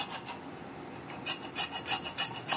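Gondhoraj lemon peel being rubbed against a grater or bowl, quick faint rasping strokes, irregular at first and then a steady run of about seven close, rhythmic scrapes.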